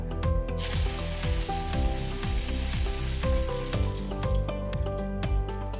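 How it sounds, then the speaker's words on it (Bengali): Dried red chilli, white mustard seeds and curry leaves sizzle loudly in smoking-hot oil for a cucumber curry, a steady close crackle with small pops throughout and no talking. "তেলটা আমার গরম হয়ে গেছে বন্ধুরা তেল থেকে ধোয়া উঠছে আমি এখানে একটা শুকনো লঙ্কাকে দু টুকরো করে দিচ্ছি আর ফোড়নে দিয়ে দিচ্ছি"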